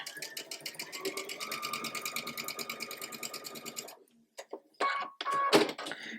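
A domestic sewing machine runs in a steady rapid stitching rhythm for about four seconds while piecing a ribbon star quilt block, then stops, followed by a few short clicks and handling noises.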